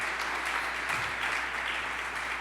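Applause from a church congregation, a brief burst of dense clapping from many hands that stays even and moderately loud throughout.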